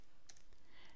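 Keys tapped on a computer keyboard while entering a postcode into an office software form, a short quick run of light clicks, close and fairly quiet.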